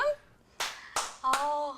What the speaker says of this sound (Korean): 박수도 3번 치고요